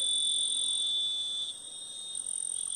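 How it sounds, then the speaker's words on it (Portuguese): A cicada gives a steady, shrill electric buzz outdoors during fishing. The buzz holds strong, dips briefly and then resumes, with no voices. "Agora essa cigarra zoa, viu? Essa cigarra zoa com uma beleza"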